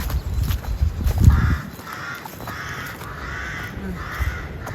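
Crows caw in short repeated calls outdoors beside a busy main road, with a low rumble of passing traffic at the start and the calls coming in several bursts at moderate distance.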